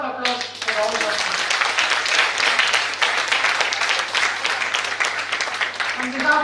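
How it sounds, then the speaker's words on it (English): Loud, steady applause from an audience at a national moot court competition, continuous clapping for several seconds with a voice at the start and end. "Let us give a loud round of applause for all of us."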